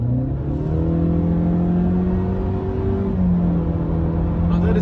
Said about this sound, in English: if I floor the car